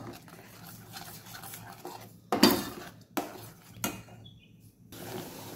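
A spoon scraping and stirring masala gravy for paneer matar masala in a metal pot, several close clanking strokes with a soft simmering background and short quiet gaps.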